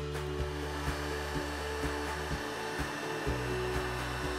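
Heat gun blowing hot air onto the inside of a plastic car bumper, a steady droning whir with a faint rhythmic flutter, continuous and close.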